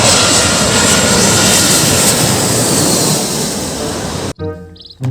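A toy airplane gives off a continuous, loud roaring jet-engine sound effect, steady and close, cutting off abruptly near the end as a voice briefly begins.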